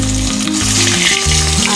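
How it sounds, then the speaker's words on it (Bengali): Fish fries in oil in a wok, a loud, dense sizzle right up close that crackles continuously, with faint tonal background sounds underneath and no voices. "মাছ ভাজাটা বসিয়ে দিয়েছি।"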